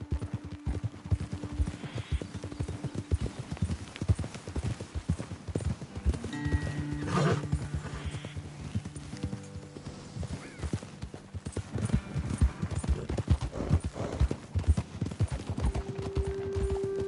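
Horses walk in the video game Red Dead Redemption 2 with a steady, continuous clip-clop of hooves, with a brief whinny partway through.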